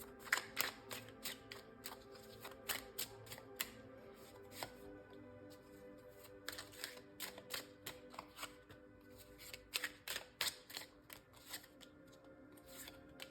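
Tarot cards being shuffled, giving quiet crisp riffling bursts and taps in an irregular rhythm, faint and close, with no speech.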